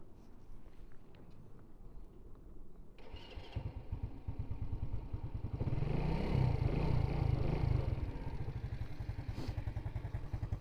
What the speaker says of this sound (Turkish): Motorumuzun sesini dinleyelim